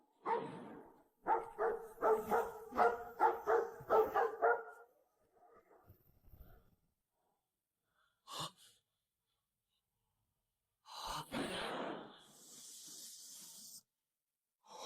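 Dog barking in an animated fantasy drama: a quick run of about eight loud, close barks, then quieter breathy sounds and a few scattered noises with long silent gaps.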